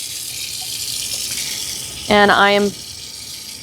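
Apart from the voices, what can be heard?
water running from a lab sink tap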